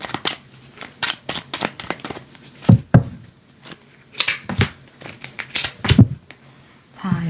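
Tarot cards being shuffled and drawn by hand, a run of crisp flicking and slapping card bursts with short pauses between them, close up and without talking.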